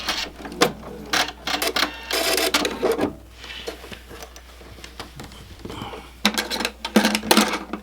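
A sewing machine stitches in reverse while binding inkle-woven bookmarks, running in several short bursts with brief stops between them, close and moderately loud.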